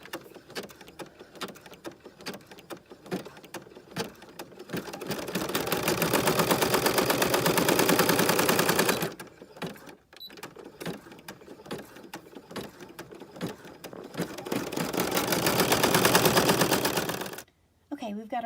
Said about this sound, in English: So let's sew that outline real quick.